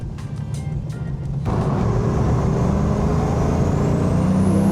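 Turbo TVR sports car fitted with a tractor turbo pulls away, engine rumble swelling abruptly into a loud, sustained roar with a rising turbo whistle, close by and with no talk.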